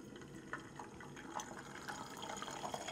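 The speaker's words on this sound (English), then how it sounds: "And it should start to bubble like that." Egg white frying separately in hot oil in a wok for Thai basil stir fry, a steady crackling bubble and sizzle with small pops throughout, close and moderately loud.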